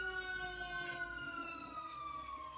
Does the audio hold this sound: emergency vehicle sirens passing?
yes